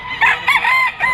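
Bull stag rooster, white-domed and yellow-legged, at a Friday pet market in Bocaue, Bulacan, crowing loudly and close in a short burst of raspy calls.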